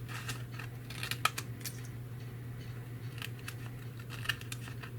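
Scissors trimming an overlong flipbook cover piece: a few short, crisp snips spaced irregularly over a low steady hum, quiet and close, with no talking.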